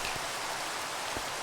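Steady rain falls in the Minecraft video game, a dense even hiss of drops with a couple of faint low thumps and no other sounds.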